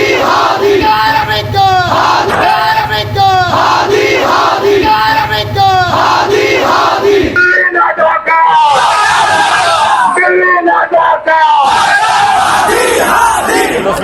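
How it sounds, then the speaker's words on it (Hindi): A huge crowd of protesters fills the streets of Dhaka, Bangladesh, with loud, sustained shouting and rhythmic chanting during a violent demonstration, a dense roar of many voices throughout. "हजारों लाखों की भीड़ प्रदर्शन कर रही है और यह प्रदर्शन उग्र हो गया"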